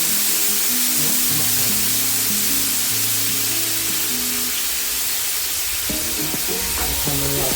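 Korean galbi short ribs sizzle loudly on a hot grill, a dense, continuous crackling hiss close up, with faint background music running underneath.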